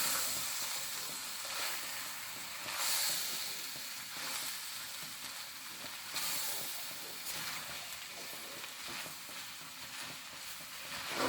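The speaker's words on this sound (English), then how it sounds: "So we are basically adding our rice now." Rice for Jamaican jerk pork fried rice fries in a hot pan, giving a loud, steady close-up sizzle and hiss that swells and eases in waves, with no talking.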